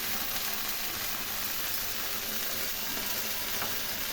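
Ground cumin, coriander, turmeric and salt sizzle in hot oil for a Bengali fish curry, giving a steady, close frying hiss that holds evenly throughout without any talk.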